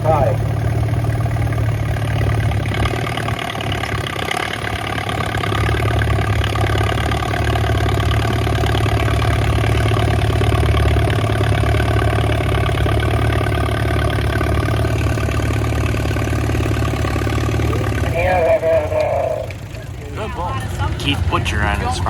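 An antique Allis-Chalmers C high drop tractor engine idles and chugs steadily at a tractor pull, a constant low drone heard beneath an announcer talking throughout.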